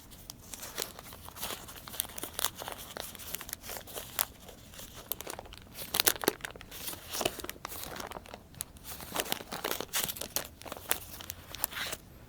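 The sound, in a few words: oil paper wrapping crinkling as it is handled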